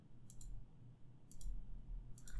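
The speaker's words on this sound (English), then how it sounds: "press U on the keyboard" Three quiet clusters of computer keyboard key presses, spaced about a second apart, over a low steady hum.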